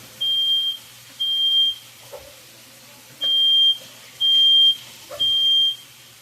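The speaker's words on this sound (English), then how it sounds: "That's a vigilant smoke alarm right there." A smoke alarm goes off while shrimp fried rice is stir-fried, giving five loud, steady high beeps in an uneven rhythm over faint kitchen noise.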